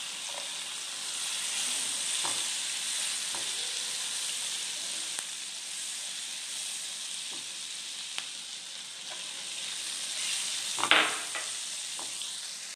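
Seven or eight cloves of garlic cut into flakes fry in butter, a steady bright sizzle held throughout, with a few soft stirring scrapes and a brief clatter near the end.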